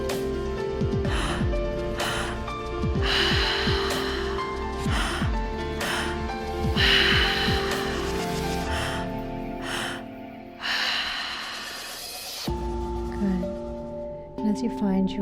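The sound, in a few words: three-part breath, deep inhale and exhale through the mouth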